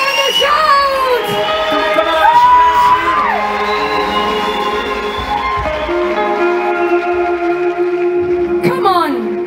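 A church congregation shouts and cheers loudly, many voices whooping and crying out at once in a sustained roar, with high rising yells and sung-out tones standing out near and clear above the crowd.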